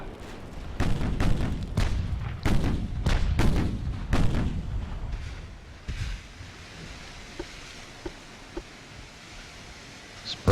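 Battleship naval gunfire in the warship game Ultimate Admiral: Dreadnoughts: a rapid series of heavy booming salvos with rolling echoes, then the sound fades to a quieter sea ambience broken by a few faint distant thuds.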